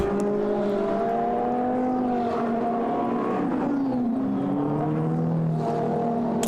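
Sports race cars, including Lamborghinis, McLarens, Aston Martins and Ferraris, weaving to warm their tyres before a qualifying race, giving a continuous loud engine drone whose pitch rises and falls as several cars rev and pass, with no talking.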